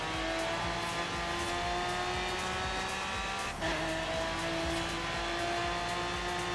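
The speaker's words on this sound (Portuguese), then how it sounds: "Patife tá acelerando geral, hein?" A car in the Forza Horizon 3 racing game roars with constant engine drone and rising revs, loud and continuous with a brief dip partway through, and no talking.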